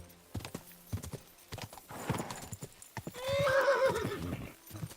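Horse hooves clip-clop in a steady trotting rhythm in Kingdom Come: Deliverance 2, followed by a loud, clear whinny near the end, alone without talk over it.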